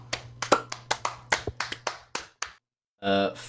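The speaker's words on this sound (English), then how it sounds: "Let's clap for Eames, of course, taking home the fucking big one." A small group claps in sharp, scattered strokes for a couple of seconds, then stops; a brief loud burst follows after a pause.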